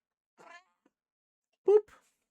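A cat in a farm-building game gives two short meows, a soft one and then a louder, sharper one, with silence in between.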